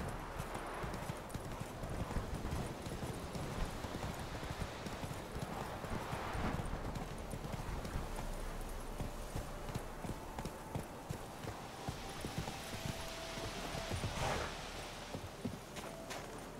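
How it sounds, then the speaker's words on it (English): In The Witcher 3, a horse gallops with steady rapid hoofbeats, loud and continuous over an ambient game soundscape, while a voice speaks faintly partway through. "Run, Roach."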